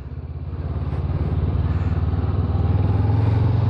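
A Honda motorcycle, either an NX500 or a Transalp 750, accelerates on a road in traffic, its pulsing engine note rising steadily in a close, throbbing drone.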